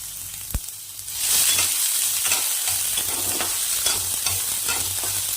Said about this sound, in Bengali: খুব বেশি ভেজে বাদামি করবো না একদম হালকা একটু ভেজে নেব মশলাটাকে